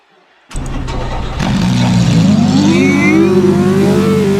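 A car engine in a Roblox video game starts abruptly and then revs up steadily, its pitch climbing, loud and close with no talking.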